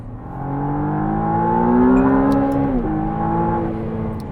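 A 2022 McLaren Artura twin-turbo V6 sports car engine revs up, its tone rising to a peak, then dropping sharply before settling. Moderately loud, with no talking.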